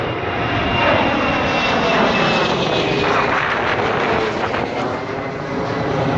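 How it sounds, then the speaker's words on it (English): A fixed-wing airplane takes off nearby at Gravelly Point Park beside the runway, its engine a loud, steady roar that fills the scene and holds without a break, with no talk over it. "the plane. They just take off right there."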